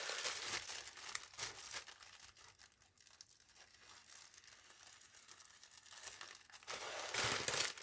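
A mail package containing a cross-stitch product is opened by hand, with loud, continuous paper crinkling and tearing throughout and several sharper rips near the start and end.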